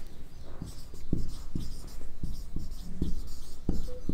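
Chalk or marker taps and scratches across a board during a biology lecture on euglenoids and slime moulds. The short strokes repeat steadily with no voice, over a constant room hiss.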